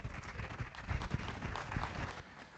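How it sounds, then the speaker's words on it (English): Faint, distant applause rises from spectators at a junior 4-H and FFA beef cattle show in Spokane, a thin patter of scattered clapping with some low thumps in a large arena. "Give them a round of applause, please."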